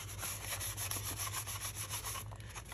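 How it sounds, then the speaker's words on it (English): A finger rubs a freshly glued piece on a wooden tool box, giving a steady, close, soft scraping that runs on without talk over a low background hum. "I can stick my finger under it and give it a rub."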